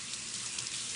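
Water from a sink tap runs steadily while a cleaning towel is rinsed, a brief, even, hissing flow, close and fairly quiet.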